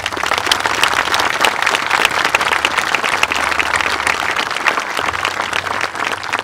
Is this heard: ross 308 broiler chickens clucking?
no